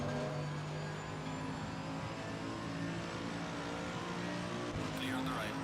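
GT3 race cars from a racing video game, lapping Barcelona with a steady droning engine note and a shift near the end, heard beneath a voice talking.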